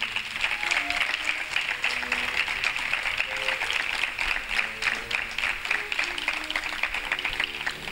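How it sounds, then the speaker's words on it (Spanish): An audience at a presentation on the air-raid shelters of Villacarrillo applauds steadily, a dense, even wash of clapping from a sizable crowd lasting throughout with no clear pauses. "Pido un aplauso para él."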